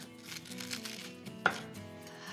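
A knife cuts through a French onion grilled cheese sandwich with caramelized onions and melted cheese, giving one sharp crunch midway over soft background music.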